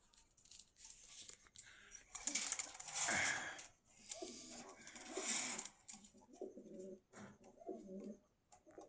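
Pigeons coo in bursts at a crowded pigeon market in Meradia, Khilgaon, Dhaka, mixed with rustling, flapping and other bird calls and background chatter at varying distances.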